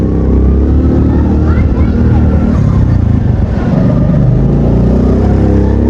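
A motorcycle engine rumbles loudly and steadily as the bike is taken up a steep, difficult climb near Sehwan Sharif, with rough broadband engine and wind noise filling the whole stretch.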